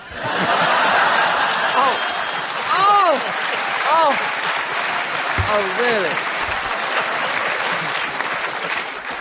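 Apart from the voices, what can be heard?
audience applause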